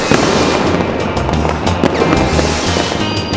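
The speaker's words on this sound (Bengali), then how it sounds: "ওইটা কত বাজির আওয়াজ শুনছি। রকেটও উড়ছে।" Cartoon fireworks and firecrackers bursting nonstop, a loud dense crackle of rapid pops and bangs with no pause, close and harsh throughout.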